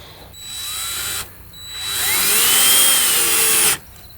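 Cordless power drill driving small hinge screws into privacy screen panels, two close whirring bursts, the second longer and rising in pitch, with no talking.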